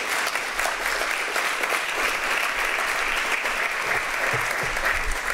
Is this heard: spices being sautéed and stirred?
no